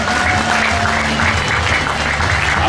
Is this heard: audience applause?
yes